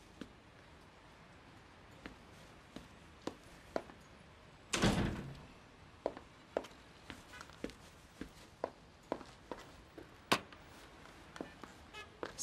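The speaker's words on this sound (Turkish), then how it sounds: "Kapat kapıyı." An interior door swings shut with a single firm thud and rattle partway through, surrounded by a steady series of sharp footstep-like knocks and taps in a quiet room.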